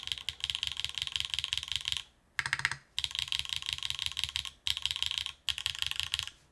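Fast, bright clacking from typing on a DN Works 02 mechanical keyboard fitted with cheese switches, in close, dense bursts separated by brief pauses.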